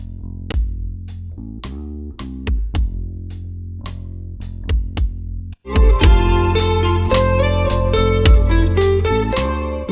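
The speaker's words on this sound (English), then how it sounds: "The bass and the drums together sound like this." Bass and drums from an indie rock mix play together: a sparse kick and snare groove with deep bass notes, then a fuller, denser section after a brief cut, loud and steady with no voices.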